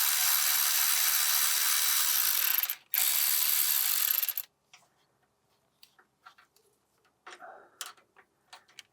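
A ratchet with an 8mm socket clicks rapidly and continuously while loosening the high-pressure power steering line on a 2004-2008 Ford F150 with a 4.6L/5.4L engine, close and loud, then breaks into a few scattered ticks and clinks of tools.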